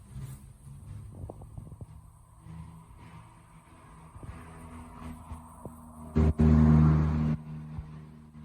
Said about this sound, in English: Excuse the cars going by.